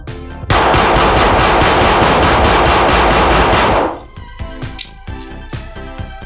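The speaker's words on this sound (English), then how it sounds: "When I get to the end of the magazine, I'll dump and reload from the Neomag and follow up with a couple of shots." Polymer80 pistol fired in a rapid string at a range, a dense burst of loud, close shots that stops abruptly, followed by quieter clicks and handling noises.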